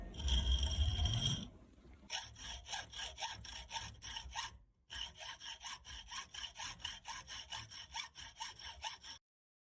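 A wooden CNC build: a saw cutting a slot in wood, with steady rhythmic rasping strokes that pause briefly and then resume at the same pace, close and clear.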